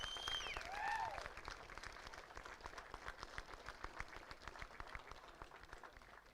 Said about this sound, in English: let's hear a huge round of applause for the man who qualified in 1st position, finished in 2nd, is Jack Caldwell